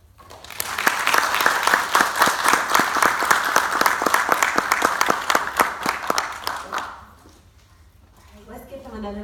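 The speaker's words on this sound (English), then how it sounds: "Let's give them another round of applause" Audience applause after a talk on reclaiming democracy, a brisk clatter of clapping that swells and holds for about six seconds, then stops abruptly before a voice begins speaking.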